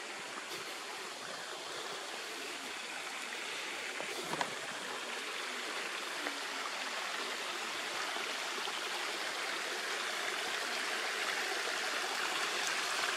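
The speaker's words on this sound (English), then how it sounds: "This is a tributary of Paroda River." A tributary of the Paroda River flows with a steady, broadband rushing hiss, continuous and fairly faint throughout, with no voices and only a small knock partway through.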